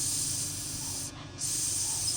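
A voice imitates a snake's hiss by voicing a long sustained S, a steady close breathy hiss that breaks briefly in the middle and then resumes, with no other sound.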